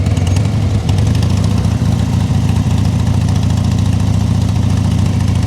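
A motorcycle engine idling during slow-speed riding practice, a loud, close, steady mechanical chug that continues unbroken with no voices over it.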